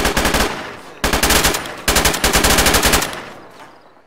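Three loud bursts of rapid automatic gunfire from ArmA 3, each a quick train of sharp shots, separated by short gaps, the last burst trailing off into a fading echo.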